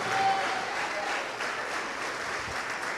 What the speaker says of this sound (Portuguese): e vamos aplaudir ao Senhor por cada vida que está chegando.